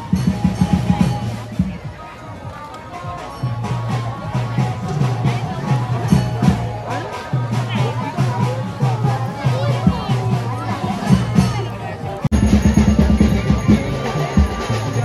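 Dense crowd hubbub fills the grounds of Kharvali temple during a busy darshan day, a steady mass of voices with rhythmic low music or drumming underneath and one person talking close by.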